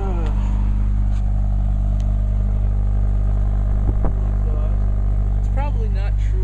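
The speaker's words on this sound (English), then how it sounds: "So I just walk around and hear what it sounds like on the engine and the exhaust system." A 2013 Scion FR-S sits idling on a cold start, its engine and exhaust holding a steady low drone with a few faint clicks and rattles, heard close up without any talk.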